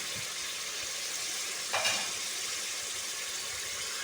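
Garlic ginger paste and chili paste frying in a pan, a steady close sizzle with a brief louder hiss burst midway.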